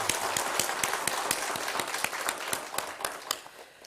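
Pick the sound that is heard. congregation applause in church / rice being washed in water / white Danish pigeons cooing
congregation applause in church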